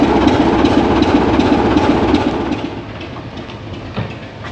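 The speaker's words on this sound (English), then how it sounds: "So as that train departs" A train pulls out of Totnes station on a heritage line, its wheels clattering over the rails in a steady rumble that is loud at first, then eases and fades as it moves off, with no talking.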